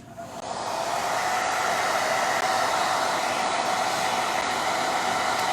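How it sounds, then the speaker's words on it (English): A hair dryer blows steadily and loudly for several seconds, a constant whooshing motor roar that ramps up at the start, with no talking. "I'm gonna hit this with a hairdryer"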